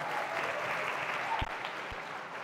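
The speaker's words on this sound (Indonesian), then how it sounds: "Tepuk tangan buat ketua kita, Igna." An audience of high school students applauds their chairperson at a gathering, a dense, even roar of clapping throughout, with a couple of brief low thumps near the end.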